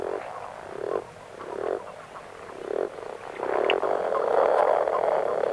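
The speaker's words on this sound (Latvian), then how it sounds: "Visagrāk nāsto parastās vardes un krupji." Common frogs and toads croaking at a spring pond, a chorus of repeated low croaks that swells and thickens toward the end, steady and fairly close with no voices.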